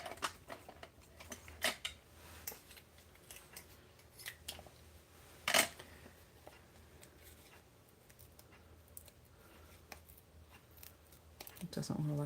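Scissors make a few sparse, crisp snips in quiet indoor surroundings, with one sharper cut near the middle and soft handling noises in between.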